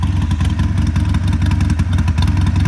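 A warm Harley-Davidson 48 motorcycle with a loud new exhaust idles close by, giving a steady, deep, lumpy rumble with a continuous loping pulse.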